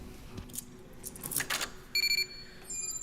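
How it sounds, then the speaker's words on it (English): Electronic alarm tones from a sci-fi video game, a short run of steady high pitched beeps in two bursts near the end, preceded by brief clicks and swishes, fairly quiet with no talking. "Beep, beep, beep."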